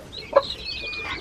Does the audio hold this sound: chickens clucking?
yes